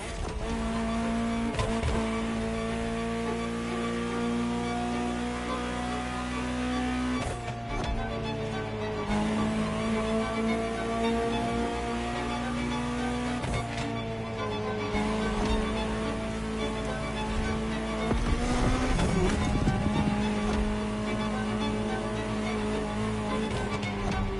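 A Ferrari supercar engine hums and rises under acceleration while driving, with several gear changes marked by sudden breaks and resets in its steady tone, heard close and moderately loud.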